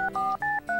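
Four crisp DTMF touch-tone beeps sound as a telephone is dialed in Tokimeki Memorial 2, evenly spaced in a quick, regular rhythm with brief gaps between each tone.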